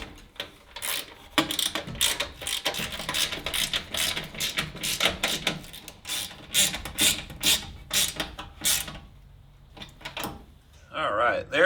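Bolts tightened on a new battery tray in a 1971 Chrysler New Yorker, a series of close ratcheting clicks in uneven bursts, while someone talks over much of it.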